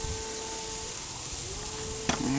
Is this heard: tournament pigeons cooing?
no